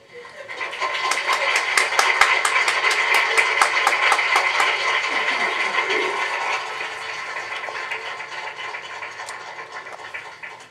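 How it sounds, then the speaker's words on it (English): An audience gives a speaker, Brother Collins, a round of hand clapping after his talk: a steady stream of quick, crisp claps that gradually fades out. "Brother Collins, you deserve that hand clap because you did a real good job."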